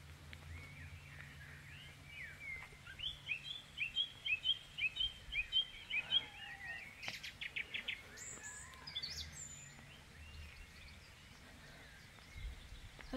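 Birdsong in a misty Aber valley near a waterfall: a run of repeated bright chirping phrases in the middle, with scattered calls before and after over a soft steady background of running water.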